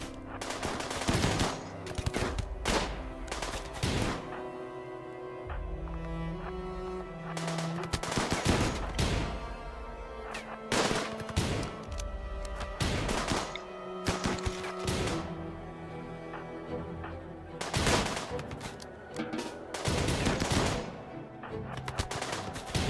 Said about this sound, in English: Most of their weapons are pretty short range, so I'm just plinking at them.